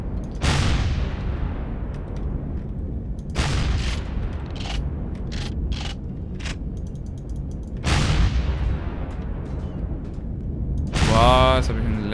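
Loud booming weapon fire in the space survival game Empyrion Galactic Survival, with several heavy blasts that trail off into long rumbling decays, plus a rapid burst of shots near the end.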